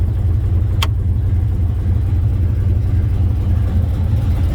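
An old TBI 350 V8 that severely overheated and seized runs rough and misfiring, a steady loud low engine drone with uneven pulsing throughout and one brief sharp click near the start.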